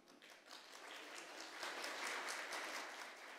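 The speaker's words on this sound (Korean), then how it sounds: "박수 한번 치겠습니다" Congregation applause during a church New Year blessing revival service's afternoon worship, a broad steady wash of many hands clapping from across the room, moderately loud and continuous.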